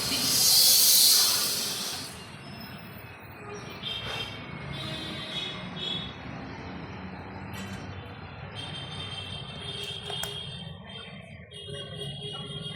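Scissors slice through stiff buckram fabric with a loud, crisp hiss, followed by quieter scraping and snipping while someone talks throughout.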